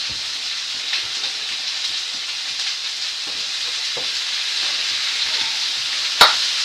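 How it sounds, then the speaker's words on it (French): A quick pan-fried dish sizzles steadily in a frying pan while being stirred, with soft scraping strokes over a constant hiss and one sharp clatter near the end. "va mélanger le plat"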